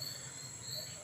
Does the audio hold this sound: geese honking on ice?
no